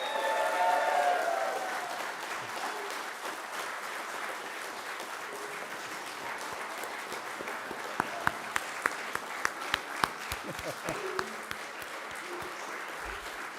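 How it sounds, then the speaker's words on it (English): Audience applause at an Amazon mechatronics and robotics apprenticeship recognition ceremony, a steady moderate patter of clapping from a room crowd that swells briefly at the start and carries on evenly, with a few sharper individual claps near the end. "if you could just give them a round of applause."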